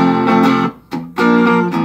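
Clean-channel electric guitar, a Washburn or Fender compared with both pickups selected, rings out in sustained strummed chords with a brief gap between strums, close and fairly loud with no talk.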